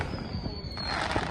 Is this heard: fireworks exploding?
yes